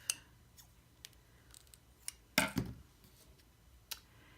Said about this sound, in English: I'll just cut off this bottom or this top leaf.